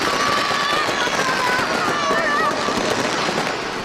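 Firecrackers burst in dense, continuous crackling around a crowd welcoming back a returned boy in the Chinese town of Chenzheng, loud and close, with a voice talking over the din.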